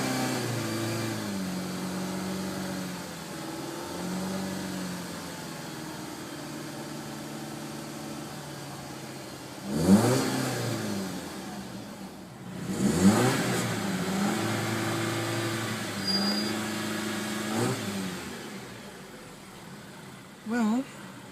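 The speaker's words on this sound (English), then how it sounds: "So let's get ready to rev this car." A 2009 Audi A4 2.0T engine revs sharply in a few short bursts, each hitting the rev limiter and dropping back, with a steady idle and some talk between them.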